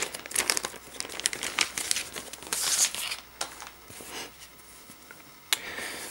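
Packaging crinkled and torn open around a Lenovo ThinkPad keyboard case for an X1 Tablet 3rd Gen, close plastic and paper crackles in irregular bursts for several seconds, with no talk.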